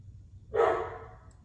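A single short dog bark inside a house, moderately close and fairly faint, ending in a breathy tail over a quiet low hum, with no talking.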